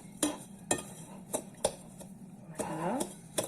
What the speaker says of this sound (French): Donc nous mélangeons.